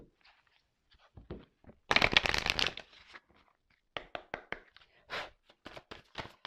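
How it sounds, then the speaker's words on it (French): Tarot cards shuffled by hand at close range, with a dense riffling burst in the middle followed by a run of short, crisp card taps and slaps; no voice. "Donc du coup, j'ai pris mes cartes"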